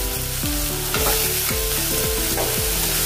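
Tomatoes sizzle and crackle steadily in hot oil while a utensil stirs and scrapes the pan in a repeating rhythm.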